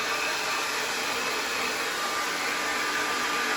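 A hair dryer set to highest speed and heat roars continuously and loudly at close range while grooming a dog's coat, with no voices.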